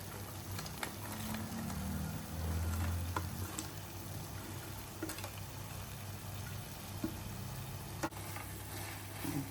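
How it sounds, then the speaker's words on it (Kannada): Raisins and cashews go into a pan of carrot halwa: a soft, continuous sizzle with light stirring and scraping, steady and close, with no talking. "ಈಗ ದ್ರಾಕ್ಷಿ ಗೋಡಂಬಿ ಹಾಕ್ಕೊತೀನಿ"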